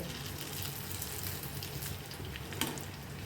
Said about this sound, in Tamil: நல்லா கிண்டி விடணுங்க போண்டாவை